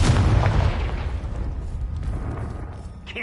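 A booming blast from the Confringo blasting curse in the video game Hogwarts Legacy, loud and near, its heavy low rumble fading over a few seconds before a faint crackle at the end.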